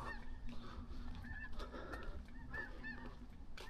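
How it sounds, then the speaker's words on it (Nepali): Geese honk repeatedly while flying overhead, several calls overlapping at moderate distance over a steady outdoor background; no one speaks. "चराहरू पो माथि आकाशमा उड्दैछ साउन्ड निकाल्दै"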